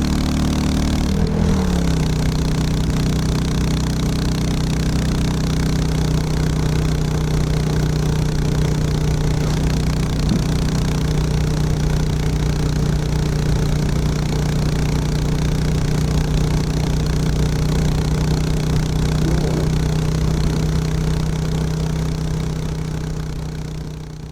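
A Classic 350 motorcycle engine idles steadily for a long stretch with a constant low drone and a faint rumble, close and unchanging.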